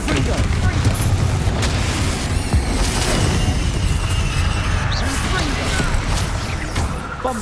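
Repeated Confringo spell blasts in Hogwarts Legacy combat, a loud, continuous barrage of booms and crackling impacts layered with busy battle noise over several seconds.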